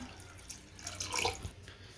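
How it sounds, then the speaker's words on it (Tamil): A small splash of water goes into a pan of rasam, a brief close pour that swells and fades within two seconds. "புளிப்பு கொஞ்சம் கூட இருக்கிறதுனால கொஞ்சம் தண்ணி சேர்த்துக்கிறேன்"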